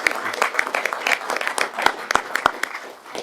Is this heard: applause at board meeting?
yes